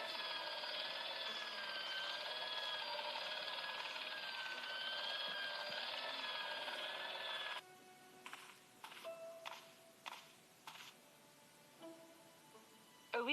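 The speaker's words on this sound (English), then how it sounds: "It was an industrial polishing machine with an odd-looking guy in tow." An industrial polishing machine in the Broken Sword game drones with a steady, loud mechanical whine for several seconds, then cuts off, leaving scattered clanks and knocks.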